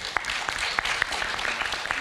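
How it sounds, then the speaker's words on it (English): A conference audience claps in a brief round of applause, with sharp individual claps standing out over a steady, moderate patter. "Let's give you a big round of applause."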